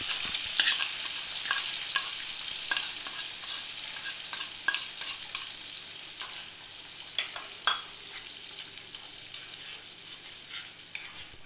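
Chutney with curry leaves frying in hot oil, a continuous close sizzle broken by frequent stirring scrapes and sharp spoon taps on the pan, with no voices.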